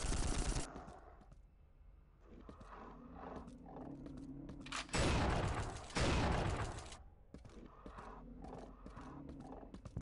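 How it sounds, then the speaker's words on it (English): A rifle fires bolts that ricochet off a wall in Unreal II's training course, with sharp bursts and mechanical clicks between, then a loud roaring blast in the middle, close and fairly dense. "See if you can ricochet a bolt against the wall and hit the target."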